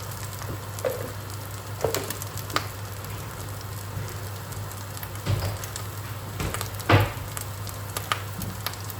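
Cooked rice sizzling and frying in a hot pan for egg fried rice, with a steady low crackle and a few sharp scraping stir strokes scattered throughout, no talk.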